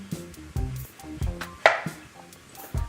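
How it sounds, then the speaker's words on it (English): A knife slices a peeled ripe mango into quarter-inch strips on a cutting board, giving a steady series of close, distinct chops, each a soft thud with a faint click. "Now that I have my mango peeled, I'm cutting it into strips that are about 1/4 inch thick."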